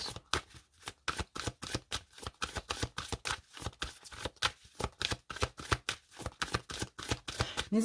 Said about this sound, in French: le temps que je mélange mes cartes